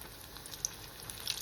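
Potato cheese balls fry in a pan with a faint, steady sizzle and a few small crackling pops, heard close and alone.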